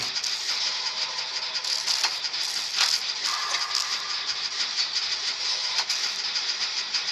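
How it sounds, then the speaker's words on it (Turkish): A generator being repaired in Dead by Daylight Mobile, a steady mechanical rattling and clanking hum with small bursts of metallic clatter, constant and moderately loud throughout. "Bu jeneratör burada bitecek."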